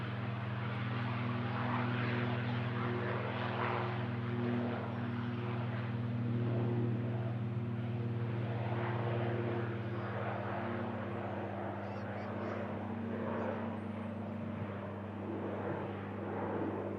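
An Emerald Airlines ATR 72-600 turboprop at Manchester, departing from runway 23 left, gives a steady, loud propeller drone with a strong low hum that holds level throughout, with no talk over it.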